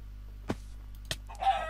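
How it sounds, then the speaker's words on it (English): Minecraft chicken clucking in short bursts, two quick clucks followed by a brief clucking call, faint over a low steady game hum, with no talking. "Chicken!"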